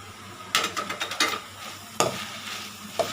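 Onion and tomato sautéing in a pan with mint as a spoon stirs them, giving a sizzling bed of frying broken by several sharp scraping strokes of the spoon against the pan, fairly close and with no talking.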